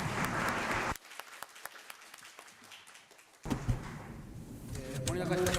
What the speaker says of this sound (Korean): 모리나카 시장님께 다시 한번 큰 박수 부탁드립니다.